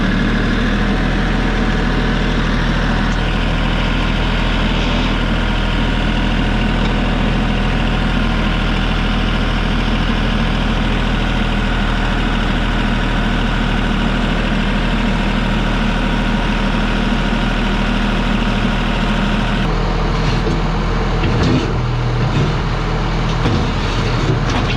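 A truck engine runs loud and steady at a low rumble, pulling away in first gear, then shifts its tone near the end as the load changes.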